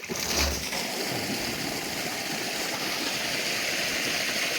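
Dirty water gushes steadily out of a drip irrigation sand filter during a backflush cleaning, a continuous broadband rush of flowing water heard close up with no talk over it.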